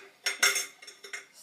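Small brass hardware pieces drop into a dish in a kitchen sink, making a handful of quick, close metallic clinks and clatters in an uneven rhythm.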